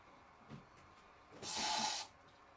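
A short burst of aerosol spray aimed at a cockroach, a steady hiss lasting under a second. A faint thump comes before it against a quiet indoor background.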